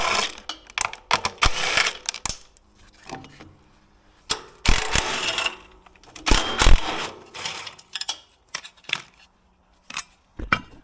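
A ratchet wrench removes 8 mm bolts from the carburetor of a Champion dual-fuel generator, giving repeated clicking bursts with short pauses and a few metallic clinks and taps in between.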